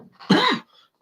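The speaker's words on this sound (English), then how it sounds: "I'm coughing it all up" A single short, harsh cough bursts out close to the microphone, followed by a faint breathy trailing sound.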